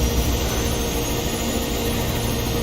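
Loud, steady roar of a helicopter in the video game Mirror's Edge, a continuous broadband engine and rotor drone that holds at the same level throughout with no voices.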